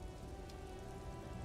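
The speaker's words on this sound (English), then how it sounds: "It's raining." Steady rain falls in a video game, a soft, even hiss of drops on surfaces with no other sounds.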